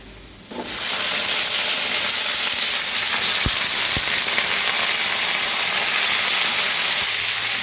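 Pumpkin and potato pieces are tipped into a pan of lightly fried bitter gourd, setting off a sudden loud burst of sizzling. The hiss stays dense and steady, broken by a couple of faint knocks against the pan.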